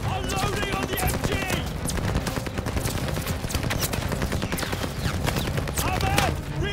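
Sustained machine gun fire in the Call of Duty Vanguard Operation Tonga mission, a dense continuous stream of rapid shots with battlefield noise and voices calling out over it throughout.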